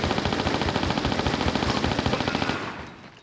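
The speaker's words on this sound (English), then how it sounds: "who's that shooting me? It's not a sentry gun, it's a man. Lara's getting shot to death." Rapid automatic gunfire fires at Lara in Tomb Raider 4, a loud, dense stream of shots with a fast steady rhythm. It cuts off and fades out after about two and a half seconds.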